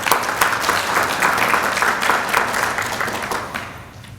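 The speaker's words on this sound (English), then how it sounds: "If we could have a little round of applause for her," An audience at a Phi Theta Kappa honor society event at NCC gives organiser Robin Latham a round of applause, a loud, even wash of many hands clapping that fades slightly at the end.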